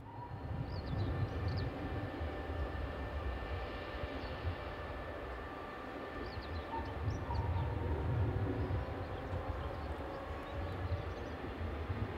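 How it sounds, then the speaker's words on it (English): A train gets underway after a brief stop, a steady low rumble of rolling wagons and a droning engine that holds even and moderately loud throughout. "After a brief stop, the train gets underway."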